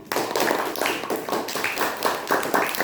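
Students in a classroom clap for a group that has just presented, a steady run of close hand claps in loose rhythmic bursts, with no talking over them.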